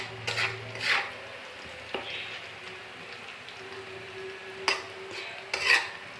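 Boiled radish greens tumble into a hot pan and get stirred, with a few sharp scraping clinks of a utensil against the pan over a steady low sizzle.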